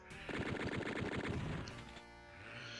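Rapid sustained machine-gun bursts from chaingunners in DOOM (Forward Toward Uranus X, Map 20), dense rhythmic firing for about two seconds, then trailing off into fainter echoing shots.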